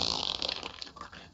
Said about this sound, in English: That was the sound effect of a wet fart.